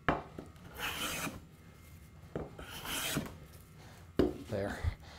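Three long rasping hand-plane strokes down a wooden board, each peeling a very thin shaving, close and fairly loud, separated by short pauses with a sharp knock near the end.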